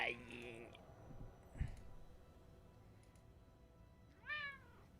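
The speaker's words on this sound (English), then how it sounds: "Yes, meow. You want to purr on the microphone?" A pet cat meows twice, once at the start and again near the end, both short rising calls close to the microphone, with quiet room noise and a faint thump between them.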